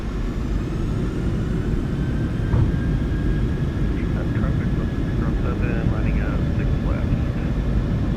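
A PMDG 737-800 jet in Microsoft Flight Simulator 2024 rolls down the runway at Anchorage with engines at takeoff power: a steady, loud engine roar with a thin whine above it, and a voice speaking over it.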